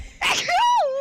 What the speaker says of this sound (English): Why are you sneezing like a robot?